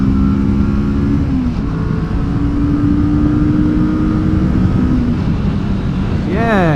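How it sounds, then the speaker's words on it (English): A Kawasaki Vulcan S cruiser motorcycle engine drones steadily under load, holding a throaty pitch before revving up sharply near the end. "I very much like the engine in this bike"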